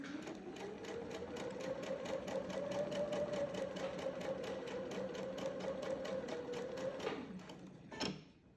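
A sewing machine stitches fabric in a steady, rapid mechanical rhythm for about seven seconds, the needle stopping down in the material, followed by a brief soft click as it halts; no voices are heard.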